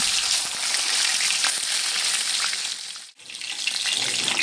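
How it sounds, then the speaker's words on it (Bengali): Pieces of silver carp fry in hot oil with a loud, continuous crackling sizzle close by, briefly dipping to near quiet for a moment before the bubbling hiss resumes. "বাকি মাছগুলো একই রকমভাবে ভেজে নেব।"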